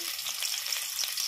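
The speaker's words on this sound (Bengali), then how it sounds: "তেলের মধ্যে কালো জিরি ফোড়ন দিয়ে দিচ্ছি। দিয়ে দিচ্ছি পেঁয়াজ কুচি।" Chopped onion with black cumin seeds frying in hot oil in a wok, a dense, continuous close sizzle with no breaks.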